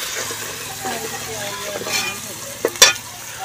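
Onions fry in a pan with a busy sizzle while a utensil stirs and scrapes them, ending in a couple of sharp metallic clinks against the pan; a voice may be faintly present.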